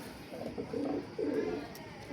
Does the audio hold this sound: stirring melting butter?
no